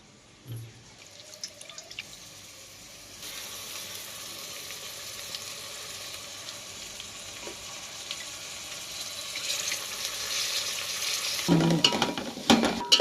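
Coriander, mint and curry leaves frying in a pan with a steady, faint sizzle that grows louder and more crackly toward the end, with brief stirring clinks.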